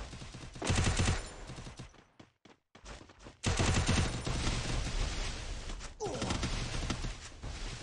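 Loud bursts of automatic gunfire in a 2v2 shooter video game match, with rapid fusillades that stop and restart and brief gaps between volleys.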